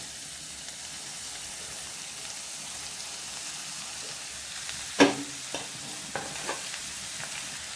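Chopped cabbage for cabbage thoran frying in a pan, a soft steady sizzle like light rain, then a sharp clatter midway and a few stirring knocks after, nearby with no voices.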